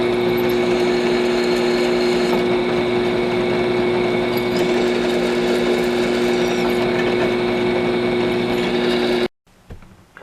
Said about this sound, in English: get over to the drill press and spot these holes and drill them.